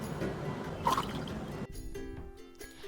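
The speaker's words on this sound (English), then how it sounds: "I am pouring it into a cup." Liquid poured from a Wonderchef Nutri-blend blender through its perforated strainer lid into a cup, a soft close trickle and drip that fades into quieter drips.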